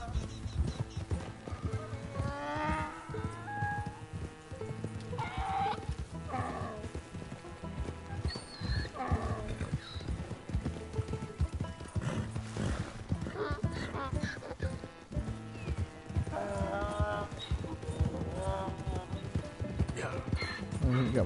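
Donkey hooves clip-clop steadily in Red Dead Redemption 2, a continuous rhythmic plodding with occasional whinnies, mixed under game ambience and a speaking voice.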